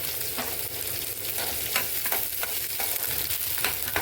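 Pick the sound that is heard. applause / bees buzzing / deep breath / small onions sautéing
small onions sautéing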